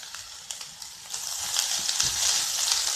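Chopped banana flower sizzles and is stirred in a pan for a Kerala thoran, a steady crackling fry that grows a little louder, with soft scraping strokes of the spoon.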